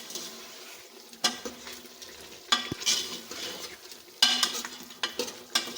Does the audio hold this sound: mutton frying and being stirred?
yes